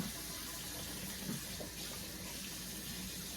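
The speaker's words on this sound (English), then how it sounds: "And you're going to want to add hot water because you want this to boil." Hot water runs steadily from a kitchen tap into a cooking pot, a continuous broadband gushing that stays even and fairly close for the whole stretch, with no voices over it.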